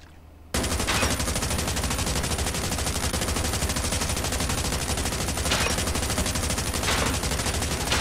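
Sustained automatic gunfire from a weapon in Call of Duty: Mobile's training practice range, a dense unbroken stream of rapid shots that starts abruptly after a brief quiet moment and runs loud and close to the end.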